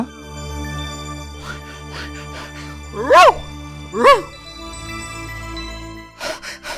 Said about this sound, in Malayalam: മിസ്റ്റർ നായ,